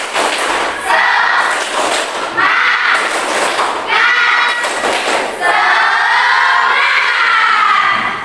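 A classroom of students performs a rhythmic 'tepuk semangat' clapping chant during an Islamic studies lesson, with bursts of patterned claps and thumps alternating with loud children's voices chanting together.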